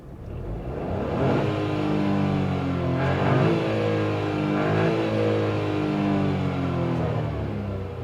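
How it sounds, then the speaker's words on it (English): A 2021 Renault Kiger RXZ turbocharged three-cylinder petrol engine with manual gearbox revs while stationary, rising from idle into a steady droning hum with a couple of swelling blips, close and continuous, no voices. "now just listen to the engine, okay? I'm just going to keep quiet and I'm going to rev the motor"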